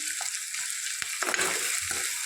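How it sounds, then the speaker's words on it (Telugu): A vegetarian curry frying with curry leaves and chopped coriander, a loud, close, continuous sizzle with crackling spatters and a few soft stirring scrapes, no voices. "కొంచెం గోల్డెన్ కలర్ వచ్చేంత వరకు వేయించుకుందాం"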